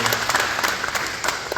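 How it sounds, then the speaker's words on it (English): Audience applause at a veterans memorial service in Deer Park, a steady round of clapping from a gathered crowd lasting the whole short moment, fairly close and even. "Let's give Kenny a round of applause."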